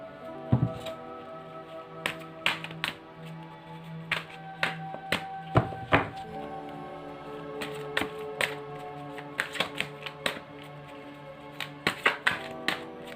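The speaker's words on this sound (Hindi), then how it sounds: "एंड अब हम शफल कर लेते हैं।" Tarot cards being shuffled: irregular clusters of sharp riffling taps and thunks on a table, close and fairly quiet, coming in repeated short bursts without talk.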